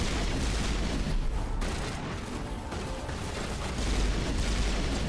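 Combat in the Mass Effect video game, with gunfire and grenade explosions heard as a dense, continuous roar of blasts and rattling fire at moderate loudness, without clear separate shots.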